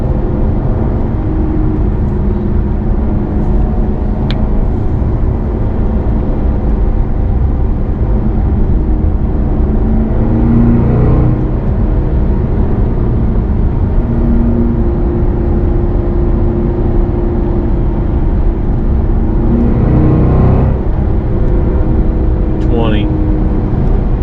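A Chevrolet SS sedan drives along a daytime road with a steady, loud engine and road rumble, with shifts near the middle and end where the pitch drops and climbs again. Speech is mixed into the drive.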